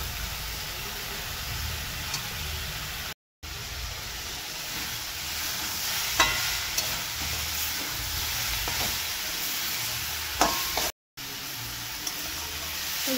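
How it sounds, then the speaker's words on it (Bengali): Leafy greens (shaak) with onions frying in a pan, a steady close sizzle and hiss with a few scraping stir strokes, uninterrupted by talk. "এই যে শাকটা প্রায় ভাজা ভাজা হয়ে এসেছে, আর একটুখানি নাড়াচাড়া করে নামিয়ে নেব"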